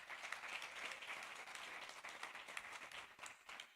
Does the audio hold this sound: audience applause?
yes